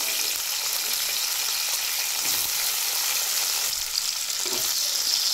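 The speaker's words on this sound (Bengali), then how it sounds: "এই যে গরম তেল থাকবে সেই তেলে পেঁয়াজ কুচি দিয়ে দিতে হবে।" Chopped onion frying in hot oil left after quail were fried, a dense, continuous loud sizzle with no pauses and only slight shifts in texture, close up.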